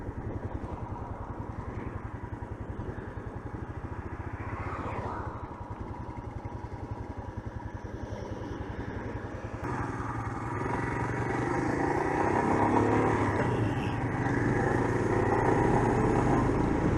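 A Royal Enfield Himalayan 411 motorcycle engine idles steadily with a throbbing low rumble, rising slightly in intensity partway through, heard close and continuous without talk.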